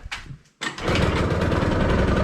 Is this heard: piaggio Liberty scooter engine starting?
yes